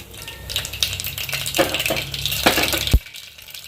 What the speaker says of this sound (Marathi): तेल चांगलं तापलं बघा कुकरमधलं आपण आता त्याच्यामध्ये मोहरी घालून घेऊ